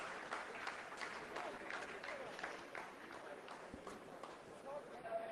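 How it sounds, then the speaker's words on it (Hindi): Scientists at ISRO mission control break into sustained applause during the Chandrayaan-3 lunar landing descent, a steady wash of clapping from a roomful of people heard beneath a speaking voice. "आप इस तालियों के गड़गड़ाहट को सुन सकते हैं"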